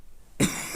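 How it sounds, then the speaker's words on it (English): A single short, harsh cough bursts out close to the microphone after a near-silent moment. "I'm coughing a lot."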